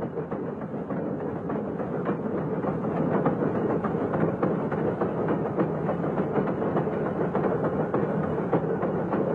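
A rack railway locomotive hauling a train uphill on the Ambarawa–Bedono line, with a steady, dense mechanical chuffing and rattling rumble at moderate distance, continuous and without talk.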